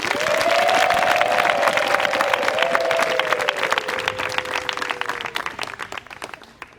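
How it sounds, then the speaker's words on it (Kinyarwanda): Audience applause with some cheering fills a church choir gathering, a dense wash of many hands clapping loudly at first, then gradually thinning and fading toward the end, with a sustained sung or called tone running beneath the early part. "tuyikomera amashyi"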